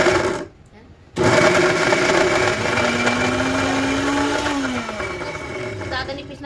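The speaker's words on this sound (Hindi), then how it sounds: "अब हम मिक्सी चलाएंगे।" An electric mixer grinder (mixie) runs steadily in a home kitchen, grinding ingredients for a nutri bhurji, starting abruptly after a brief quiet gap and holding a loud continuous whine with a rising then falling motor tone.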